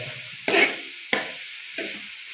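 Green amaranth thoran stirred in a hot frying pan, three separate scraping strokes, each followed by a short sizzle, close and clear over a faint steady hiss.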